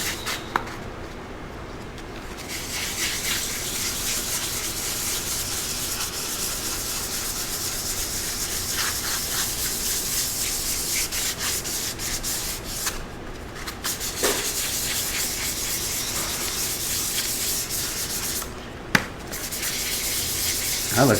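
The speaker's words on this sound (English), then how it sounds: "So let's just give this a little sanding." Close, steady rubbing of 400 grit sandpaper runs continuously for about twenty seconds, broken only by a few brief pauses and a soft knock near the end.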